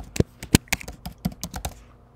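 Quick bursts of typing on a computer keyboard, close and fairly loud, a dozen or so crisp key clicks in an uneven rhythm that then trail off into quiet.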